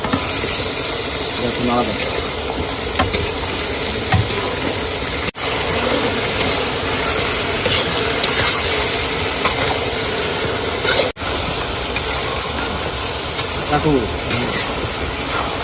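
Fish frying and being stirred in a pan, a steady broadband sizzle with scraping stir sounds throughout, close and fairly loud, with two brief dropouts.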